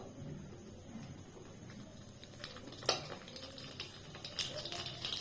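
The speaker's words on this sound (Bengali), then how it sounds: "তো আমি এর মধ্যে এবার ফুচকাগুলো ভেজে নেব" Fuchka puris frying in hot oil in a kadai, a soft, faint crackling sizzle close by, dotted with a few light utensil clinks and scrapes.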